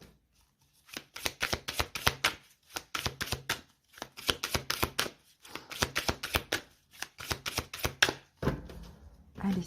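Tarot cards are shuffled and dealt onto a table in quick bursts of crisp riffling and slapping, with short quiet pauses between bursts, fairly faint and close with no voice.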